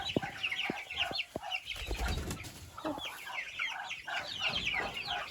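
Many chickens cluck and chatter together in a busy flock, a rooster among them, with a few sharp clicks and some wing flapping near the start.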